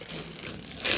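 Protective plastic film is peeled off the thin bezel of a new Vizio 43-inch Full HD smart TV, making a close, continuous crinkly tearing rasp that swells louder again at the end.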